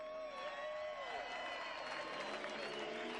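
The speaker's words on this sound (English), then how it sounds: "You can hear the American crowd cheering him on" Cheering and applause from an American crowd at a World Superbike race in Tooele, Utah, a continuous roar with whoops that swells steadily while a race commentator talks over it.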